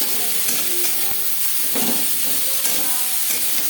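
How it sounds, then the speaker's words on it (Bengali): Potato pieces being stirred and fried with onions in a pan, a loud continuous sizzle with scraping stir strokes at irregular moments. "পেঁয়াজ ভাজার সাথে আলু বেশ ভালো করে মিক্স করে দেব"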